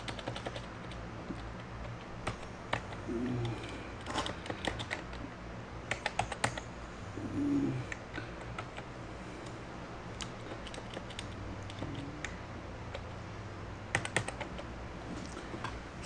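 Computer keyboard typing in bursts of quick, light clicks with short pauses between runs, close and fairly quiet, with no voices.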